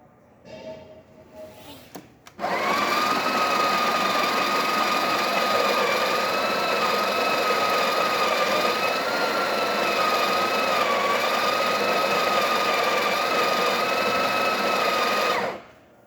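After a brief moment of quiet, the built-in grinder of a repaired Breville Barista Express espresso machine whirs on with a loud, steady high-pitched motor drone that runs about thirteen seconds and then stops abruptly.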